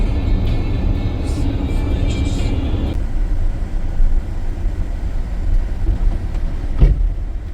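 A Maxus Deliver 9 van engine rumbles at low speed, then the sound turns enclosed and hollow as the van rolls onto a train carriage, with a clunk near the end.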